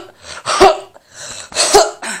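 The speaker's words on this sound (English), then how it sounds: "I have something that I have to cough up." A person coughs twice in harsh, throaty bursts, close and loud, each preceded by a rough intake of breath.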